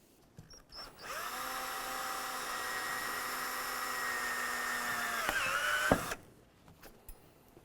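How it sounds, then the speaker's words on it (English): A power drill bores a pilot hole through the bed rail cap of a 2004-2015 Nissan Titan, running as a steady close whine for about five seconds, dipping as the bit breaks through, then stopping. "drill a hole someplace in the center area here, not on the outside"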